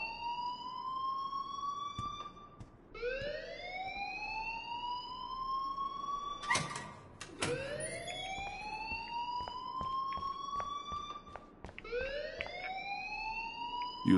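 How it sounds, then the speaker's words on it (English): A school alarm in the video game Life is Strange wails in repeated rising sweeps, loud and continuous, with a brief clattering knock partway through and no talking. "please turn off that alarm since that's your job."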